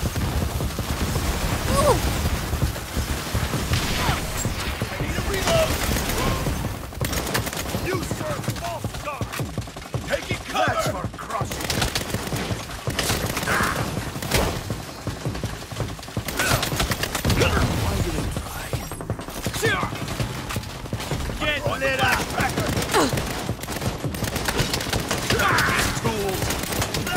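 Rapid bursts of automatic gunfire crackle almost nonstop in a Saints Row shootout, dense and loud, with shouted voices breaking through now and then.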